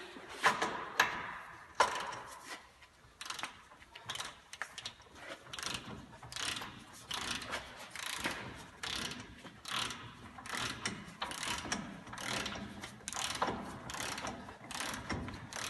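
Rapid clicking of a ratchet wrench tightening a lower ball joint bolt with a 15/16 socket, repeated bursts of close, crisp pawl clicks that continue steadily without any talk.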